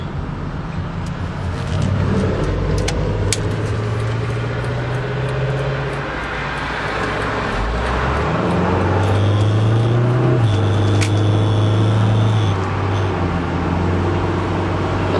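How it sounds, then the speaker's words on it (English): A 1997 VW Cabrio Highline is driven while its engine downshifts smoothly, the revs rising and falling in clear steps under steady road noise. "This one's got a very, very smooth shift pattern. You'll see it's downshifting nicely."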